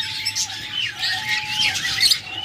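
Pure yellow pet birds with red eyes and yellow beaks squawk in a bird shop, several harsh, rising calls overlapping in quick succession, loud and close against a faint steady hum.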